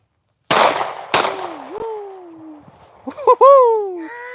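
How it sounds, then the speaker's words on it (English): Two sharp AR-15 rifle shots crack outdoors on rural land about half a second apart, each trailing off in a brief echo, followed by a few excited voices talking and calling out. "Just gonna fire off a few."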